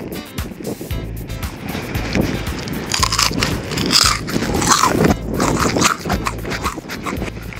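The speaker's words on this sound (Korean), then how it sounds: "아, 이 바삭함이 여러분들에게 잘 전달될지 모르겠어요" Crunchy bites into deep-fried hairtail (cutlassfish) seasoned with seasoned salt, fried slowly over very low heat; repeated close crisp crunching and chewing with scraping texture, no talk.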